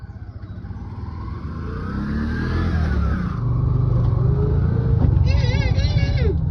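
A Bajaj auto-rickshaw engine runs loud and close throughout, its revving droning on under a steady rumble while voices talk over it.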